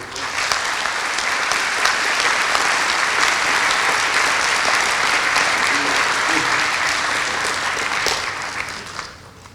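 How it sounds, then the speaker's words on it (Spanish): Sustained audience applause fills a university lecture hall in welcome of a physics professor before his talk on quantum mechanics, a dense steady wash of many hands that holds loud throughout and fades at the very end. "Un fuerte aplauso, por favor."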